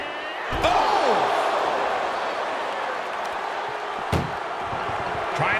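An ambulance door slams shut in a wrestling video game ambulance match, a sharp loud bang near the start and another hard thud later, over steady crowd noise and commentary.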